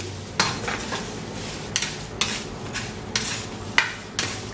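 Spices and curry leaves dry-roasting on medium-low heat for Sri Lankan roasted curry powder, a close, dry rustle broken by rhythmic scraping strokes of a spoon against the pan, each stroke a sharp swish, with no talking.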